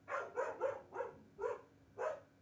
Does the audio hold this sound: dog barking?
yes